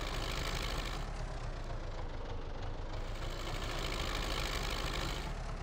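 A small tractor engine in Farming Simulator 19 drones steadily and loudly throughout, a constant low rumble with a busy mechanical rattle and no pauses.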